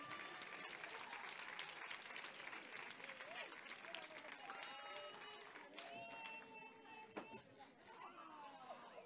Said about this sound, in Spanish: Un fuerte aplauso para Diego.